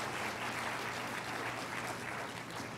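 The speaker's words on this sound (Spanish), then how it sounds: "Yo creo que merece otro aplauso el Señor" A church congregation at a sermon claps together in a sustained, even round of applause, a continuous dense patter of many hands at moderate distance with no voices on top.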